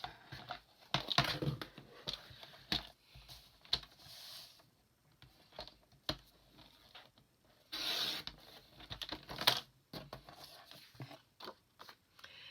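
Paper for a junk journal pop-up being cut by hand, heard as scattered crisp snips and rustles with quiet gaps between them, close and fairly faint, with a few sharper bursts of cutting.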